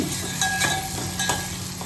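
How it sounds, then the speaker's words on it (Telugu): Onions frying in a pan until reddish brown, a close steady sizzle with a few stirring scrapes, and no voices. "ఉల్లిపాయలు, బాగా ఎర్రగా వేయించి"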